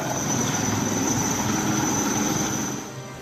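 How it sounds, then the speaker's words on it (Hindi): A helicopter runs steadily overhead during a flood rescue in Rajasthan, its rotor and engine making a loud, continuous whir that thins slightly near the end, with no voices. "हेलीकॉप्टर की मदद से फंसे हुए लोगों को बाहर निकाला गया"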